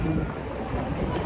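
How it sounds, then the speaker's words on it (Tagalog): Steady sea breeze at a beach resort on Samal Island, a full, rushing wind buffeting the microphone with a constant roar and no pauses. "Ang ganda ng simoy ng hangin"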